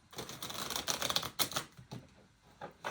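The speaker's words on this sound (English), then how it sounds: "let me just shuffle this again" Rapid, crisp clicking and riffling of cards being shuffled, close up, in quick bursts that taper off into a few lighter taps.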